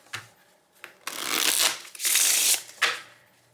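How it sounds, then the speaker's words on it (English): A deck of linen-textured cardstock cards is shuffled close up: a few light taps, then two long riffling bursts and a final short riffle, with no talking. "Look how beautifully these shuffle."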